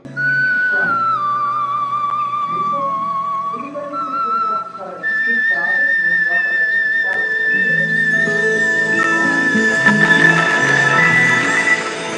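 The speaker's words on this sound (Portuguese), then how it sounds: "também tem o registro de whistle, ou flauta, flageolet, ou simplesmente assobio" A singer demonstrates the whistle register, or flageolet voice: long, very high, pure sustained tones that glide and step between pitches, loud and close, with lower vocal sounds underneath in places.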